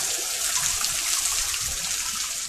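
Heavy rain pours steadily during a storm at a flooding house, making a dense, continuous close wash of water noise with no pauses or talk.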